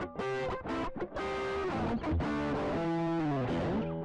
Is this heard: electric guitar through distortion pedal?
yes